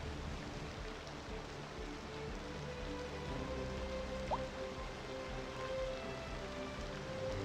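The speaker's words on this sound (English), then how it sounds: "Sounds like it's raining, but it's snowing." Weather in Cities: Skylines II makes a steady, even hiss like falling rain, moderately quiet and unchanging, with a low hum of city background beneath it.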